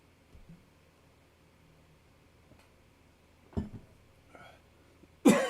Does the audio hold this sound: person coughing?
yes